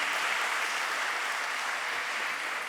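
Steady applause from a seated audience at a MoodleMoot 2019 conference session in France, honoring a presenter; dense, even clapping fills the whole stretch without pause.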